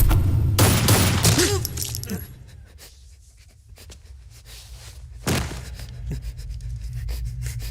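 Gunfire in an action movie scene: a loud, rapid burst of several shots near the start, a quieter lull, then another sharp shot after a few seconds, with no talking.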